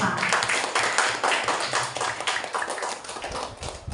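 A school class applauds after a group presents its forest ecosystem diorama, many hands clapping in a lively, uneven patter that stays fairly loud and close for several seconds with no talk over it.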